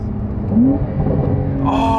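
A Porsche 992 Carrera S engine revs while driving, a loud, close rumbling drone that climbs in pitch and then holds steady with a whirring motor tone, no talking over it.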